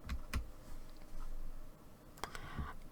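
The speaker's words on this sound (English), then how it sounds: "on your keyboard click delete" Delete key pressed on a computer keyboard during digital cardmaking work, heard as a few sharp, close clicks spaced apart, with a faint room background and no voices.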